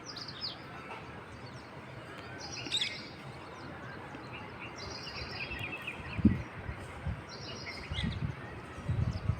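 Faint, scattered high chirps from parrots at a distance, with quiet outdoor background noise and a few soft bumps, in a terrace garden.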